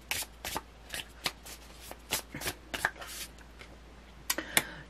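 Tarot cards are shuffled by hand in quick, uneven bursts of papery riffling and slapping, close and fairly quiet.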